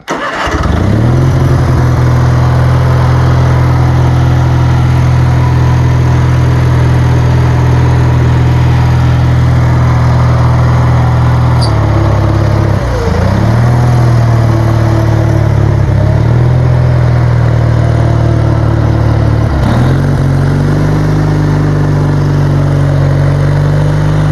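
A lawn mower engine, used to drive a homemade stump grinder, starts at once and runs loud and close for over twenty seconds, its steady drone dipping briefly twice as it comes under load, no talking.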